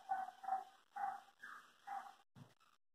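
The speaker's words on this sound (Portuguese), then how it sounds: "os cachorrinhos hoje dos vizinhos tá tudo assanhado" Neighbours' dogs bark in a short run of about five yappy barks, somewhat distant and steady, ending with a faint whimper, with no talk over them.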